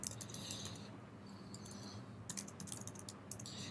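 Fingers tap quickly on a mobile phone keypad while entering login details into a work app, light clicks in short bursts over a faint steady hiss.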